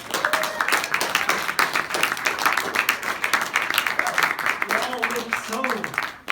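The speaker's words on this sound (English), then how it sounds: "Give a round of applause for Gunther." Audience applause rings out as a new chef is welcomed on stage, dense clapping filling the room for several seconds with voices talking over it toward the end.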